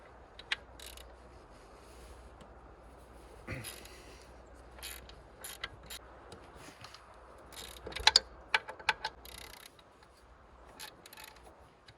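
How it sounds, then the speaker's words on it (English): Ratcheting wrench clicks in short irregular bursts while belts are tightened on a Ford F250 with a 6.9 IDI diesel, close and fairly quiet, with scattered metallic taps and a low background hum. "I need to tighten a couple of these belts up first"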